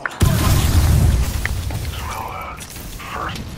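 A video game grenade goes off with one heavy, booming blast that rolls out and fades over a couple of seconds, followed by brief muffled game sounds.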